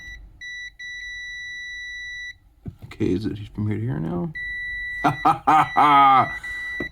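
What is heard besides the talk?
multimeter continuity test beep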